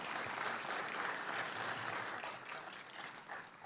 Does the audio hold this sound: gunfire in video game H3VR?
no